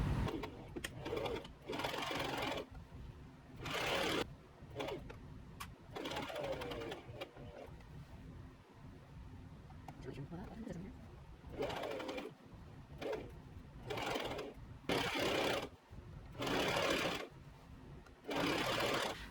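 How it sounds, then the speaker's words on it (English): Sewing machine stitching the seams of a tiered puff-sleeve dress in repeated bursts of rapid, close mechanical whirring, separated by brief pauses. "while I was at the machine, I gathered the top and I sewed it into the round"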